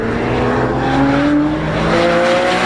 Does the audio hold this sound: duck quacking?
no